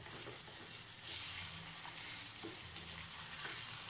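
Pepper chicken frying uncovered on a high flame, a steady close sizzle with soft scrapes and stirring clatter throughout, no talking.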